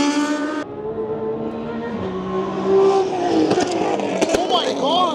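A Mazda Miata race car drives at a Gridlife track event at Laguna Seca, its engine revving and changing pitch up close, with crowd voices and other car noise around it.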